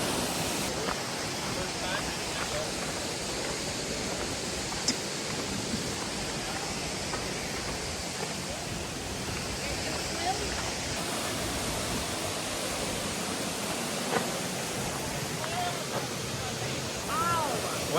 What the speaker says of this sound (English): Horsetail Falls, Oregon, right on the gorge